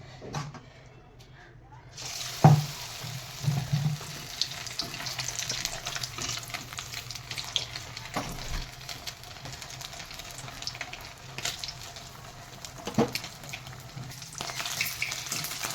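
Battered tapse fish pakoras deep-fry in hot oil, a continuous bubbling sizzle held at a steady level for a long stretch, with occasional utensil knocks and faint background talk.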